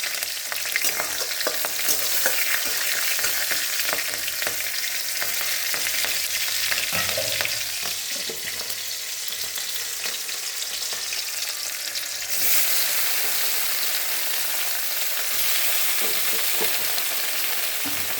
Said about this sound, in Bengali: সেই তেলে আমি এখন ফোড়ন দিয়ে দেব, কাঁচা লঙ্কা আর একটু কালো জিরে